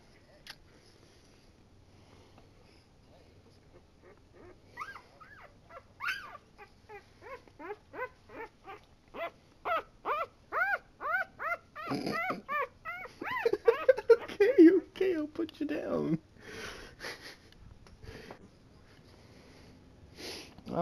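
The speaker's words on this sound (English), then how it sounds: "Because I have dogs." Dogs whimpering and yipping in a rising series of short, high whines, getting louder and more insistent toward the middle, with a brief bark-like burst, heard fairly close in a quiet room.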